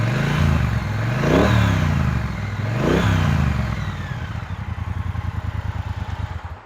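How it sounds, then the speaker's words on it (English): A warmed-up 2020 Triumph Bonneville Speedmaster twin engine revved gently twice, each rev rising and falling smoothly, then settling into a steady, lumpy idle thud; close and clear with no talking. "so I'll give it a couple revs here for you, just gentle."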